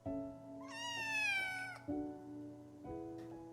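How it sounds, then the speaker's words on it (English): A kitten meows repeatedly, with one long rising-falling meow and shorter calls after it, close and clear with no talking. "the cute meows,"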